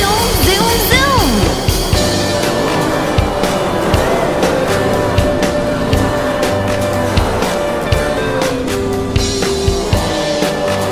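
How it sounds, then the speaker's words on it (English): Racing cars in a children's nursery song rev and screech, with loud engine roars, sliding tire squeals and sharp hits layered over music throughout. "You rev your engines, fill your fuel, and then vroom vroom. Your tires screech, and you take off"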